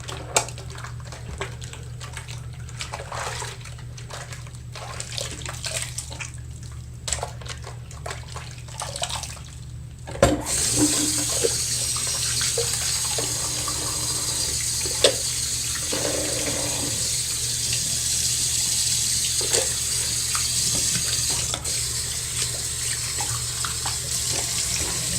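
Water runs from a tap in a steady hiss while soap is rinsed off, starting softer and spattering, then becoming a louder, even stream after about ten seconds.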